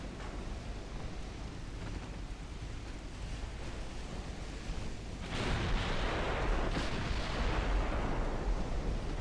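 Naval 10.6-inch guns fire in the Ultimate Admiral Dreadnoughts battleship game, a heavy blast that rolls out over a constant roar of sea and wind, followed by a second rumbling report.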